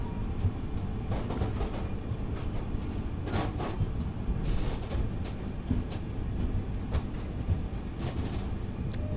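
The 17206 Kakinada Port–Sainagar Shirdi Express rolls into Shirdi station with a continuous heavy rumble and intermittent clattering, loud and close from on board.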